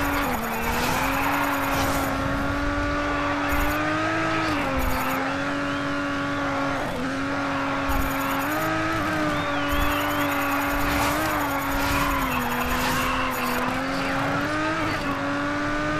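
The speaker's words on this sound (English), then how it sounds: "this entire lap has just been one drift" A car drifts through a whole lap in the Grid racing game. The engine drones steadily with wavering pitch, and tire squeal runs underneath. The sound is continuous and moderately loud, with no talk.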